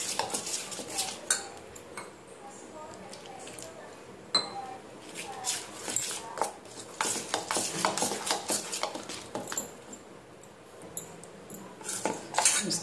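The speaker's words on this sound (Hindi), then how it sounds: "और एक घोल तैयार कर लेते हैं।" A spoon stirs and scrapes a water, tomato ketchup and mayonnaise batter for onion rings in a bowl, giving irregular clinks and taps close by, with faint talk at times.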